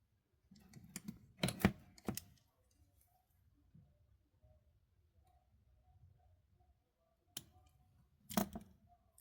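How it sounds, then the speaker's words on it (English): A few sharp snips of small cutters trimming excess beading wire on a spring necklace, brief crisp clicks in two clusters with quiet pauses between, close up. "So we're going to snip off this excess right here."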